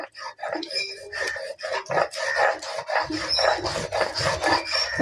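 Spices are ground by hand for cooking with steady, rapid rasping and scraping strokes of stone on stone, loud and close in a continuous rhythm.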